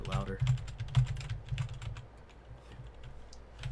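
Computer keyboard keys, the WASD movement keys, tapped repeatedly while playing The Stanley Parable, giving a run of quick, fairly close clicks that thin out toward the end, with a low room hum underneath.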